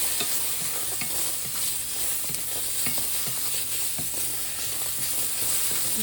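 Vegetables for japchae stir-fry in a pan, one kind at a time, giving a steady close sizzle and hiss with repeated scraping stirs and light clicks from the utensil.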